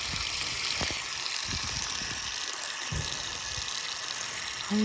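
Cold water running steadily from an outdoor tap at a campsite in Sauble Falls while feet are washed, a continuous close hiss and splash with occasional heavier splashes and no talk.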